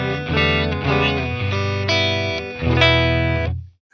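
An electric guitar plays through a Gallien Krueger 250ML amplifier on its clean setting: several strummed chords ring out with rich sustain, close and loud, and the last chord fades to silence.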